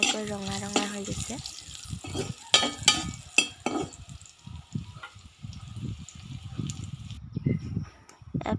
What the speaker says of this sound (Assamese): তেল, নিমখ, হালধি, চয়াবিনখিনি আগে ভাজি লৈছোঁ। ঘূৰিয়াকৈ ভাজি ল'ম